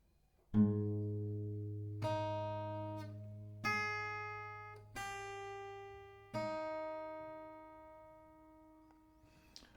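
Slow acoustic guitar notes from a guitar lesson, about five plucked one at a time, each ringing out and fading before the next, clear and close.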